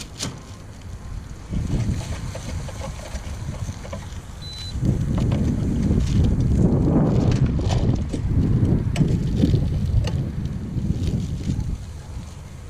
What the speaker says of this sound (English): The wind doesn't blow everything away on me.